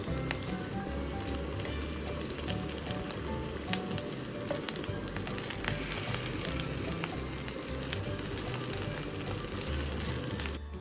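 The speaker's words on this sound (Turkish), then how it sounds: "Ve önlü arkalı patlıcanlarımızı hafif kızartıyoruz." Eggplant slices fry in hot oil in a pan, giving a continuous crackling sizzle with scattered pops, fairly quiet and close, with no voices.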